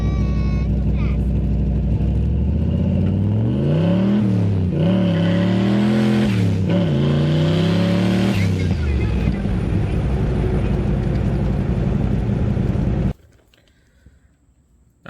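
A boosted Ford Mustang Foxbody accelerates hard, its engine loud and close, rising through several gear shifts before cutting off abruptly near the end.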